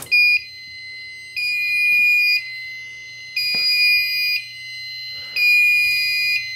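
A white Firelite ANN-80 fire alarm annunciator sounds its trouble signal: a piercing electronic tone that pulses in long on-off beeps, about one second on and one second off, loud and close with no talking.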